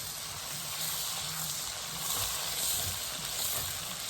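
Chopped onion and minced garlic sauté in a pan, giving an even, close, continuous sizzling hiss with no talk over it.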